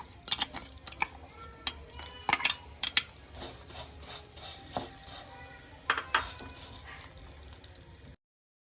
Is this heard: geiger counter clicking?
no